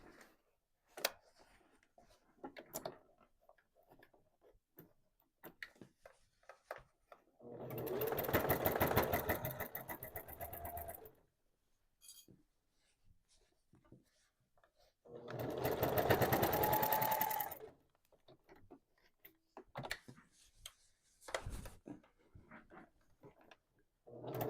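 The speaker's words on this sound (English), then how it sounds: "Let's get this sewn together." A sewing machine joins quilt-as-you-go blocks for a scrappy charity quilt, running in two steady bursts of about four and two and a half seconds, with quiet handling noises between them.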